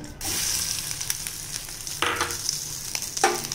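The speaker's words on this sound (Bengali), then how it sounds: "তেলটা গরম হয়ে গেছে, এবার দেব মাছের ডিমগুলো।" Large catla fish roe fries in hot oil in a home kitchen, giving a steady close sizzle with bursts of spattering and popping.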